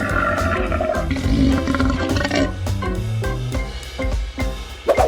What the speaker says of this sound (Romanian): Acesta este un răget puternic!